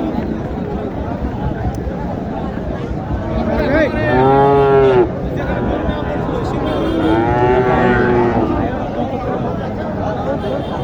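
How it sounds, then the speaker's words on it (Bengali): Sahiwal cattle at a livestock market in Naogaon give two loud, drawn-out moos, one after the other and close by, over a constant background of crowd chatter. "এই গরুটা একটু ভালো করে দেখেন শাহিওয়াল একটি গরু হান্ড্রেড পার্সেন্ট শাহিওয়াল"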